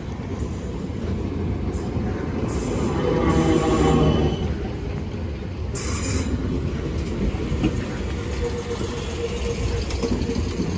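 BR Class 455 electric train passing at Clapham Junction, a continuous close rumble of wheels and carriages that swells and eases, with intermittent high wheel squeal.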